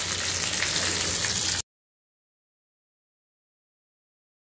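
Fish sizzling in hot oil in a home kitchen pan, a steady dense crackle for about a second and a half, then it cuts off to silence.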